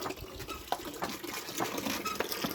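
Water gushes and splashes steadily as it is pumped, a continuous near flow with no voices.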